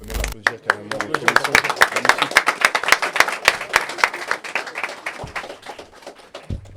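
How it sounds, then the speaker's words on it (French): A live audience breaks into loud, close clapping, with distinct individual hand claps piling into applause that thins out toward the end, while voices and cheers mix in. "On peut l'applaudir carrément."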